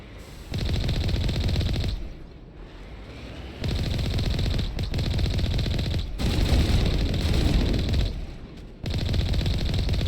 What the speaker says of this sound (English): Are the turrets shooting at the Rachni?